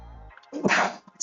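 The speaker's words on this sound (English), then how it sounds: "Sneezes." A single close, sharp sneeze from a person, preceded by a short quiet lead-in, with no talking during the burst.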